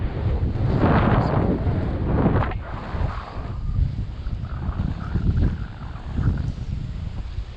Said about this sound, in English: Here the wind is higher, is expected